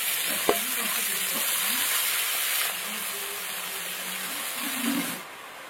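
Shredded cabbage is stir-fried in a pan with spiced oil, giving a loud, steady hiss and sizzle close by with a sharp knock near the start. The sizzle fades toward the end.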